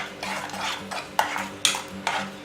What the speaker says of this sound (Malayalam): നല്ലവണ്ണം ഒന്ന് മിക്സ് ചെയ്ത് കൊടുക്കുക.